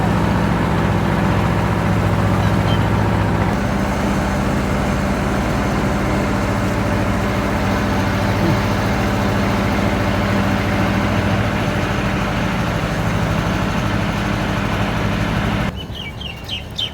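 A river boat's engine drones steadily and close, a low continuous rumble with a faint tonal whine that runs throughout before cutting off near the end.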